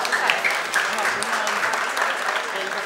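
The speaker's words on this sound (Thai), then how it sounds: "ขอเสียงปรบมือดังๆด้วย" Steady, dense clapping from an audience at a Lao event, The Wow Wow Season 2 final, filling the room continuously at close range with faint voices underneath.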